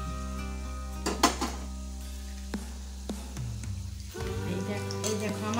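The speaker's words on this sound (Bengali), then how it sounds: "এমনিভাবে আমি আস্তে আস্তে নাড়াচাড়া করে ভেজে নেব।" Egg leg pieces frying in a pan and turned slowly, a steady sizzle broken by a few sharp utensil clinks against the pan, with a low background hum.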